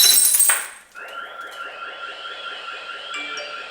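A glass is dropped and shatters sharply at the start, shards ringing and clinking briefly before a steady electronic tone from a Ring Alarm glass break sensor test rises and holds indoors.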